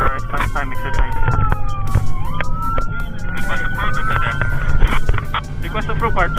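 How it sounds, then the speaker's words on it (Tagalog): An airport rescue fire truck's siren wails and sweeps up and down at close range as the vehicle enters the active runway, with a rumbling engine and radio chatter beneath it. "Fire truck requesting permission to enter the active runway"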